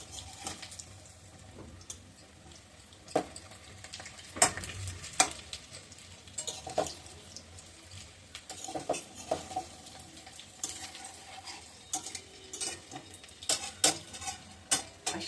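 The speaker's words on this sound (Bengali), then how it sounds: "লঙ্কাগুলো দিয়ে তারপরে নেড়ে চেড়ে নামিয়ে নেবে।" Green chillies sizzle and fry in a pan while a spatula stirs them, giving scattered clinks and scrapes over a steady, soft frying hiss, with no talking.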